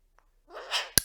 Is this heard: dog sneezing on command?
yes